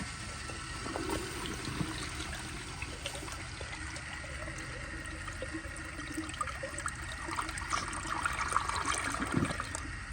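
A 1998 Eljer Dover urinal gives a blowout flush at reduced water pressure, a quiet, steady rush and trickle of water that swells slightly toward the end.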